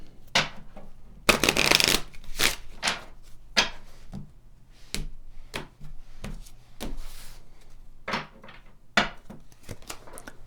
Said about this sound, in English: Let's pull some Kipper cards and see what wants to come forward.